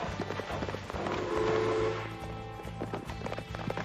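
Horses gallop in the Western tactics video game Hard West 2, a steady rhythmic clatter of hoofbeats that swells in the middle and carries on over a low ambient game backdrop.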